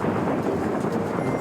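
Loud, rumbling storm noise, a dense wash of heavy rain with a deep thunderous roll underneath, continuous and close.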